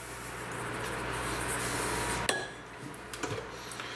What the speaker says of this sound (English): And I'll stir that with the spoon.